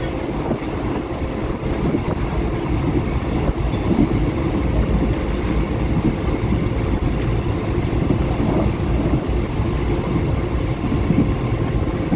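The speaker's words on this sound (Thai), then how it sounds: "นี่คือการเดินทางการสัญจรแบบรถไฟครับ" A steady rumble of a train rolling along the rails past forest and rice fields in Sisaket, Thailand, continuous and fairly loud throughout, with faint rattling and no voices.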